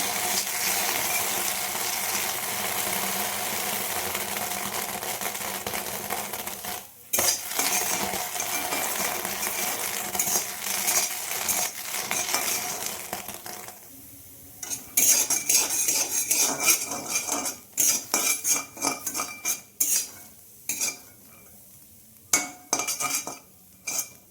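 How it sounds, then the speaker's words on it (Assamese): Hard little peanuts rattle and scrape against a metal pan as they dry-roast without oil, with irregular clinks and bursts of stirring that grow choppier toward the end. "বাদামখিনি অকণমান ভাজি লৈছোঁ।"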